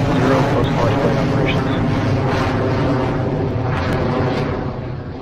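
Rocket engine ignition and liftoff of the Gepardo 2, a loud, steady broadband roar that holds strong throughout and eases slightly at the end, with a voice talking over it.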